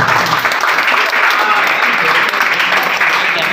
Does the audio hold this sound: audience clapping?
yes